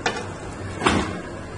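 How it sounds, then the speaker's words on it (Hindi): Raw beef drops into boiling water in a pressure cooker, splashing and sizzling close by in two short bursts over a steady bubbling hiss, with no talk. "अब हम इसमें डाल देंगे बीफ"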